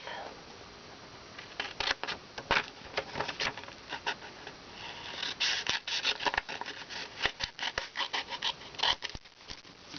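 Scissors cutting a paper envelope template: a dense series of close, crisp snips and paper rustles in irregular bursts, moderately quiet and without talk.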